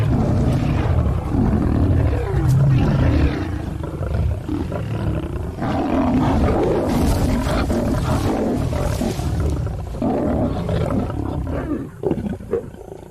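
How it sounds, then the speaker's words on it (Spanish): Lions roaring in the wild, a continuous loud mix of deep roars and growls from a group of big cats, rumbling steadily throughout and easing slightly near the end. "los leones que quedan pelean entre ellos"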